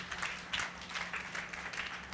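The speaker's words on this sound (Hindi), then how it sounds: "ताली बजा के प्रभु को महिमा दे।" Congregation at a Sunday worship service clapping hands together, a short burst of soft, fairly distant applause-like clapping with uneven rhythm.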